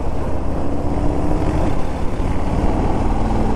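A 2018 Harley-Davidson Fat Bob motorcycle engine pulling steadily up a steep grade, a continuous loud low rumble with constant wind-like roar, close and unbroken throughout.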